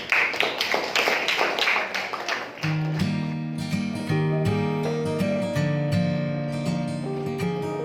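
A classroom of students claps for a group at a Bekasi senior high school, a quick burst of dense applause that fades after a few seconds as music takes over.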